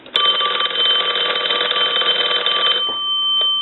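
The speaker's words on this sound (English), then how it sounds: "So we're going to go ahead and ring the phone." An old mechanical telephone bell rings loudly in one continuous metallic trill, then stops abruptly and leaves a faint hum.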